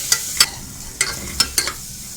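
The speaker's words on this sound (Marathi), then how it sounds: "गरम मसाला, लाल मसाला. आता चांगलं मिक्स करून घेऊया." Gavar and vatana bhaji with garam masala and red masala is stirred in a pan, with five sharp scraping clinks of a spoon against the pan over a soft, faint sizzle.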